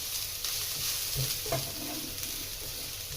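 Garlic sizzling in hot oil in a pan on medium heat, a steady close crackling hiss with a few stirring clatters, cooking for Bicol Express with fatty pork.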